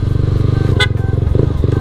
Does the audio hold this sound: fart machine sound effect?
no